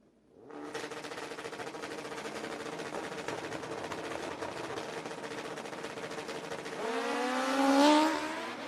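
A Kawasaki drag racing motorcycle with a big rear tire roars loudly down the lane in a sustained, steady blast, the engine note climbing sharply near the end as it pulls hard.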